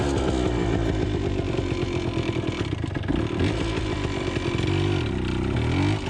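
A Yamaha DT175 enduro motorcycle engine with a dragging clutch and a melted clutch cable runs loud and close, a rough, buzzing two-stroke rasp that holds steady with small throttle dips and a brief rev change near the end.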